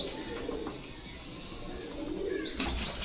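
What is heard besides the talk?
pigeons cooing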